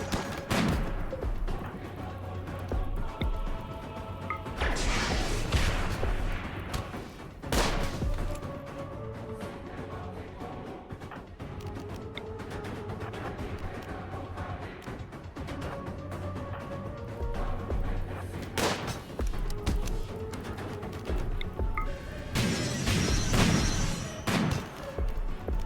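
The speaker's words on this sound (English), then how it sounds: "Those Hellcat rifles are really annoying, aren't they?" Bursts of rifle fire from Hellcat rifles in the sci-fi game Inquest of the Dead, loud volleys breaking out several times over a steady background with brief crashes between them.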